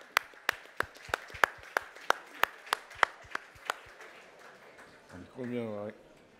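Someone on stage at a supply chain directors' gala claps in a slow, regular series of sharp single claps that fade out, followed by a brief spoken voice.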